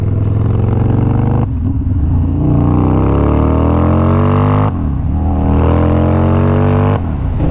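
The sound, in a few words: water-cooled Harley-Davidson motorcycle engine revving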